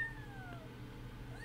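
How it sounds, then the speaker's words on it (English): A cat meows faintly in the background, one drawn-out falling meow followed by a shorter rising one, with no talking. "If you hear a cat meowing,"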